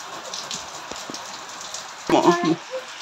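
Light rain falls on a rooftop as a soft, steady hiss of drops, with a voice speaking briefly near the end.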